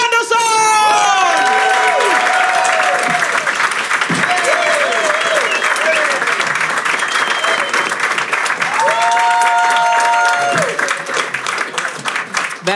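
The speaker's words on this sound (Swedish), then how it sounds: "Ge en stor applåd till den aspiga trollkaren från TF, Fredrik Andersson!" A roast battle crowd gives a big ovation as comedian Fredrik Andersson comes on stage, with loud sustained clapping mixed with shouts and cheers, close and full, thinning slightly near the end.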